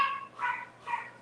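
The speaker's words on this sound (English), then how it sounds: "Can y'all hear Yazi barking?" A dog named Yazi barks from another room behind two doors, three muffled, fairly faint barks spaced roughly evenly over about a second.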